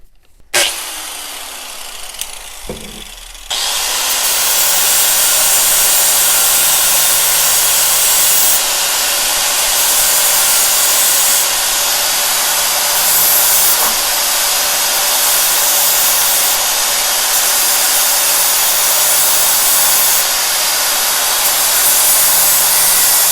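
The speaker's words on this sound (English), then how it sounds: "I'm going to just very delicately grind that, take a little bit of that off" A power grinder starts up and runs steadily on a part of an abandoned lawn mower, a loud continuous whining hiss held for about twenty seconds after a few brief clunks, close and alone.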